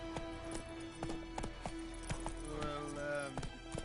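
Roach, a horse in The Witcher video game, clip-clops along with steady repeated hoofbeats, close and fairly loud, while someone talks over them.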